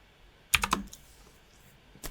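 A few quick keystrokes clack on a computer keyboard, including a press of the enter key, then a brief pause and another tap, close and crisp in a quiet room with no talk.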